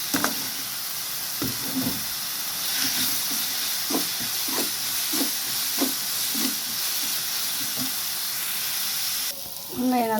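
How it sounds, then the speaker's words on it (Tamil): Onions with salt sauté in a pan with a continuous, close sizzling hiss, punctuated by regular light scrapes and taps of stirring, and a brief voice right at the end. "வெங்காயம் உப்பெல்லாம் போட்டு வெங்காயம் நல்லா வதங்கட்டும்."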